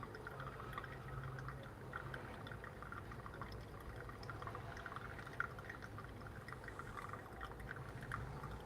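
A faint, steady trickle of water poured slowly and continuously over coffee grounds in a V60 dripper, with a few tiny drips and no voices.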